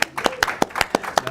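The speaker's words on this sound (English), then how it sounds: "Give Nick a round of applause, guys." A small studio audience claps for a guest named Nick on a broadcast, a handful of sharp separate claps in an uneven rhythm, close and brief.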